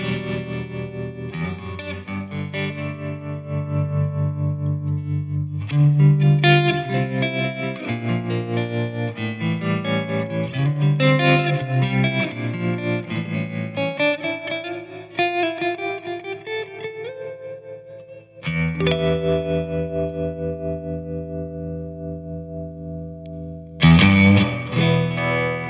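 An electric guitar plays through a Victory Lunchbox head and cab with the gain near noon, adding Flint reverb and tremolo. Sustained chords and single notes shimmer and pulse, with a final loud strum.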